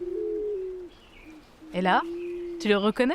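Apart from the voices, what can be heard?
pink pigeon cooing call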